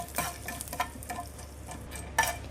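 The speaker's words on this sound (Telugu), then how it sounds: "ఎండుమిర్చి అలాగే ఫ్లేవర్ కోసం కొంచెం ఇంగువ వేసేసుకొని ఒకసారి మళ్ళీ కలిపేసుకుందాం" Dried red chillies and asafoetida stirred into a hot oil tempering in a pan for a greens chutney, giving a soft continuous sizzle with a few brief scraping stirs, close and fairly quiet, no talking.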